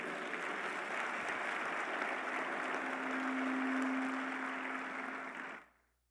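Church congregation applauding during a worship service, a dense sustained wash of clapping from many hands that holds steady for several seconds before fading out, with a faint held tone underneath.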